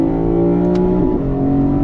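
A 2024 Lexus IS500 engine revs hard and loud from inside the car, its steady tone dipping briefly as the gearbox shifts up, then pulling on.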